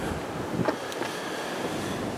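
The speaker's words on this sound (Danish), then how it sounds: "Det er regnen, der banger ned på taget." Rain drumming steadily on the roof of a small cardboard-box-like hotel room, a dense continuous wash of noise with no talking.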